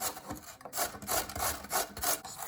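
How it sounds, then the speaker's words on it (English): Soft kohlrabi is rubbed against a grater in about six quick, rhythmic rasping strokes, close and moderately loud with brief pauses between them. "So the vegetable is fairly soft, so it gets grated pretty quickly."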